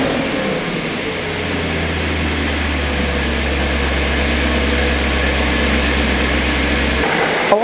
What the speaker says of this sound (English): Now I'm going to start the engine and we'll see where the level will be after the pump rotates.